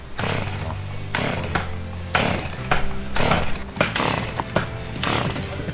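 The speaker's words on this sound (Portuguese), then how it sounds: "Aproveitar que o Ricardo tem motosserra." A chainsaw cuts wood while a small lake is being built, its engine snarling in repeated bursts with rising and dropping pitch between cuts, loud and close with no talk over it.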